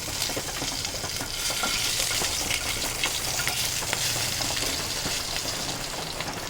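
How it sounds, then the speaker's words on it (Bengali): Whole spices, green chilli and cumin seeds frying in white oil for chicken soup, a close continuous sizzle with crackling pops and light stirring, no voices. "এবার ভালো করে একটু ফোড়নটাকে ভেজে নেব।"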